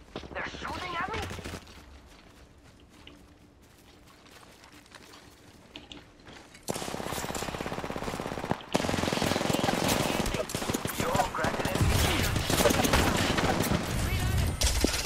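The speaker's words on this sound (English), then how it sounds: "They're shooting at me." In the battle royale game Apex Legends, a quieter stretch gives way to loud, sustained automatic gunfire, dense bursts rattling close and continuous through the second half, with a voice talking early on.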